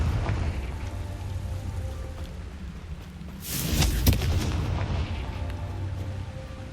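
Confringo fire spell blasts in Hogwarts Legacy, heard as a burst of crackling explosive noise midway, rising over a steady rain-like wash of ambient game sound.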